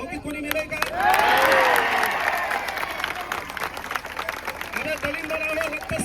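A crowd at a student protest rally breaks into a loud burst of clapping and cheering that swells and then fades, while a speaker's amplified voice carries on over and after it.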